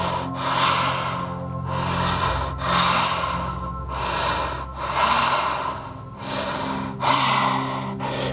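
Slow, deep breathing cycles during a taikokyu stretching exercise with a six-foot staff, several long inhales and exhales repeating evenly, close and fairly loud with no talk.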